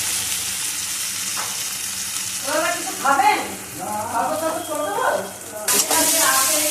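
Spice paste of chilli, cumin and turmeric powders is being sautéed in a pan, a constant close sizzle broken by scraping stir strokes, with someone speaking over it throughout.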